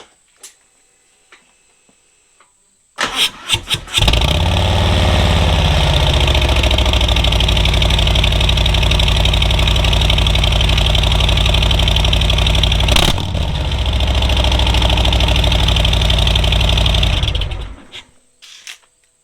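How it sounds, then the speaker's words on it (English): A motorcycle fitted with Tab Performance 50 cal exhaust and Zombie baffles cold-starts with a sharp crank and catch. It settles into a loud, steady, throaty idle with a brief dip midway, then shuts off abruptly. "let's try a cold start."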